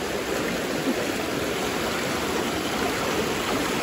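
A river flows nearby in a rural valley with a steady, dense rushing hiss of water that stays even and loud throughout, with no voices or other sounds.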